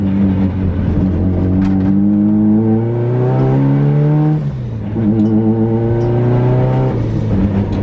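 A Nissan 350Z fitted with a prototype titanium exhaust revs loud and close, its tone climbing smoothly, dropping off, then rising again in a second strong rev.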